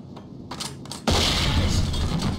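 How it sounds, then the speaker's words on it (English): A SWAT 4 flashbang goes off after a couple of soft clicks and handling sounds, its loud sudden bang then hissing into a sustained roar. "I'm just gonna go hard with flashbangs."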